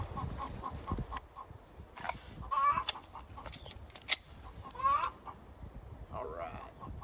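A hen clucks repeatedly while laying an egg, a fairly distant, uneven series of calls in the background of an outdoor spot, with a few sharp louder bangs and some faint voices scattered through.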